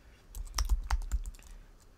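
Quick, light keystrokes on a computer keyboard as a command is typed, about eight close clicks in a short uneven burst, quiet and alone.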